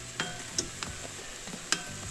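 Eggs being moved around with a spatula in a new, slightly rough-surfaced cast iron skillet, with a few distinct scraping clicks over a faint, steady background sizzle.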